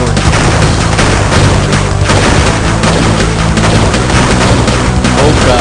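Missiles exploding in the video game Crash Bandicoot: The Huge Adventure, a loud, dense, continuous barrage of booms and blasts with constant rumble and no pauses.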